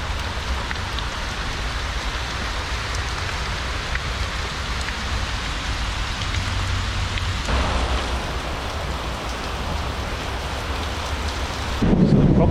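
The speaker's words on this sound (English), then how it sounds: "as you can hear, is the thunder and the flashes of lightning I see" Heavy tropical rain pours steadily in Jakarta while thunder rumbles, loud and continuous, with a sharper burst of downpour near the end and no talking.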